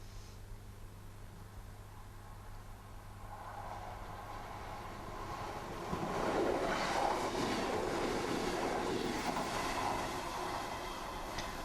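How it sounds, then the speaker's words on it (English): A train heading to Cleethorpes passes a railway crossing, a faint distant rumble swelling to a louder rushing wash of wheels and rail noise midway, then holding as it carries on. "And here it comes, and it's whizzing off to Cleethorpes."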